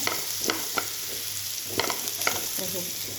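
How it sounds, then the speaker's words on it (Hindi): Green chillies fry for bhindi masala, giving a soft, steady sizzle in the pan. A handful of distinct spatula scrapes and taps punctuate it at fairly quiet overall volume, with no talking. "थोड़ा भुनने दे ऐसा।"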